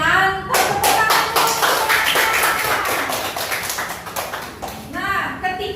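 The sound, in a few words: class clapping hands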